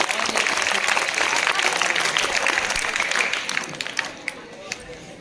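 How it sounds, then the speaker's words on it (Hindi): Audience claps for a contestant at a quiz competition's rapid fire round, a loud, dense spell of applause that thins out toward the end into scattered claps, with some voices underneath. "तालियां बजाओ उसके लिए।"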